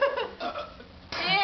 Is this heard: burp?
yes